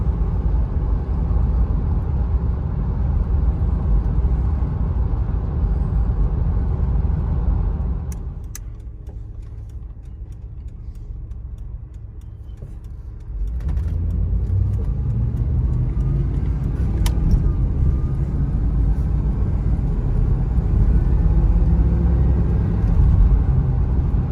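A 1991 Chevrolet Blazer with 77k miles cruises at about 37 mph, giving a steady low road rumble and engine drone heard from inside the cab, which quiets for several seconds midway before returning.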